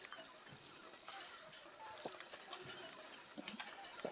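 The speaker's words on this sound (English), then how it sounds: "Let's have a drink of water." Drinking water in the video game Fallout 4, a faint trickling and gulping liquid effect lasting a few seconds, with low background noise.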